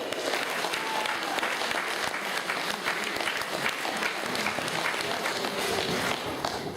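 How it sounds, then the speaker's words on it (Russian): An audience applauds steadily and loudly at a season-opening event of a Tatar cultural centre in Moscow, the clapping dense and sustained throughout with no talk over it. "Аплодисменты!"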